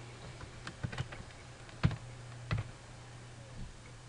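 A few scattered, faint keystrokes tap on a computer keyboard while entries are edited, irregular clicks spaced apart against a quiet background.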